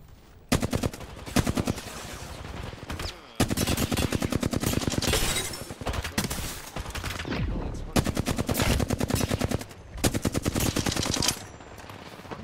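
Rapid bursts of first-person shooter gunfire, loud and close, firing in several long automatic volleys separated by short pauses.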